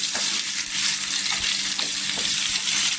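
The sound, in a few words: potatoes frying in oil in a frying pan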